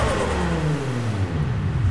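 A car engine in the Apex Point racing game revs up through the gears, its pitch climbing and dropping in quick steps, loud and continuous.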